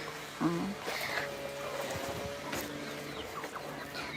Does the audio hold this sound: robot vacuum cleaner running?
no